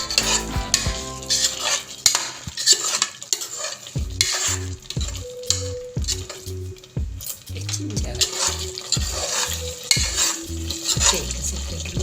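Gutti vankaya brinjal curry is stirred in a pan with a metal spoon, giving repeated scraping and clinking strokes in an uneven rhythm over a soft sizzle, close up and with no talk.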